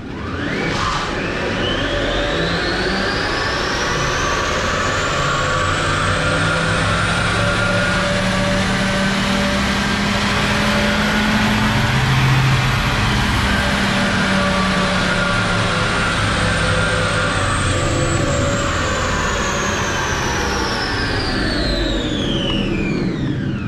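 A Renault Twizy launches hard on a rolling road dyno, its electric drive whine rising steeply in pitch then falling away over a long, loud, continuous run, with rollers droning underneath.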